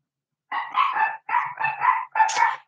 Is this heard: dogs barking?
yes